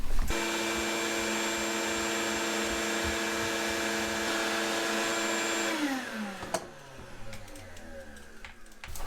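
A vacuum cleaner roars steadily while sucking lint out of a clothes dryer, then winds down near the end, leaving clicks and clatter as the hose is pulled out.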